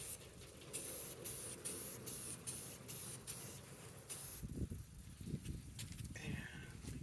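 Short bursts of aerosol spray paint hissing in a regular on-off rhythm on parts of a Zenith AM/FM radio, followed by duller handling noises and rustling close by.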